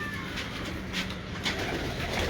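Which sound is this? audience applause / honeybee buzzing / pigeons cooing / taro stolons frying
pigeons cooing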